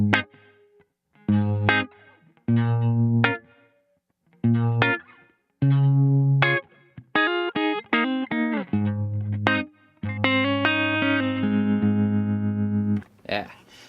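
Electric guitar riffs from a song played through effects, short chordal phrases with gaps between them, then longer sustained passages building to a fuller ringing section near the end.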